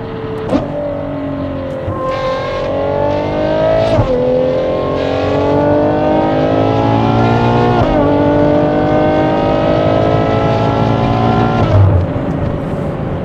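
A Ferrari Purosangue V12 fitted with a NOVITEC exhaust system drives on empty streets, its engine note rising and falling through repeated revs and gear changes, loud and close throughout.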